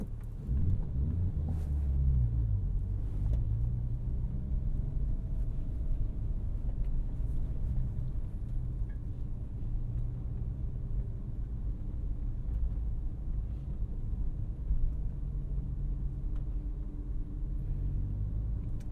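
A manual Porsche 911 Turbo of the 997.1 generation drives on Bear Mountain, heard from inside the cabin. A steady, deep engine and road rumble runs throughout with no talking.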